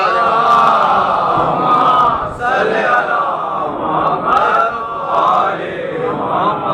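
A mosque congregation recites salawat together in unison, a loud massed chorus of voices rising and falling in waves.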